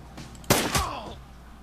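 Two sharp gunshots ring out close together in the video game Shadowrun Returns, a loud crack followed a moment later by a second, then a short fading tail.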